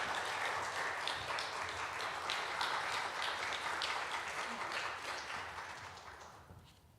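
A church congregation at a Friday prayer meeting claps warmly, steady dense applause that swells and then fades away toward the end.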